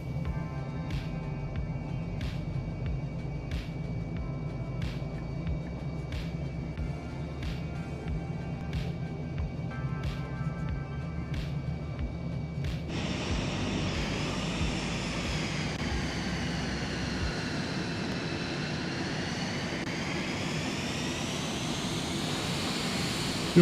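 An aircraft in Microsoft Flight Simulator idles with a low engine drone and regular ticking. Then the engine surges into a loud, sustained roar as it takes off, its pitch wavering as it climbs.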